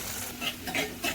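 Onion sizzling in a dal fry tempering of garlic, mustard seeds, cumin and curry leaves, a continuous frying hiss broken by three short scraping stirs of a spoon in the pan.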